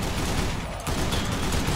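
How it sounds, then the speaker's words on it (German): Sustained automatic gunfire from a machine gun in the zombie video game Dead Island, a dense, continuous loud rattle of shots filling the whole stretch with no pauses or talk. "Noch ein bisschen MG rumgeballert hier."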